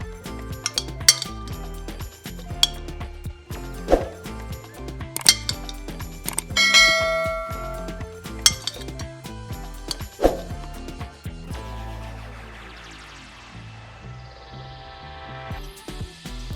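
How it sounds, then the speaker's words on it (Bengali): Metal fork clanking and scraping against a bowl while mashing hot boiled potatoes for potato biscuit dough, a steady run of close, sharp clinks and taps with no talking. "এবার গরম অবস্থাতেই কাঁটা চামচ দিয়ে সুন্দর করে আলু ম্যাশ করে নিন।"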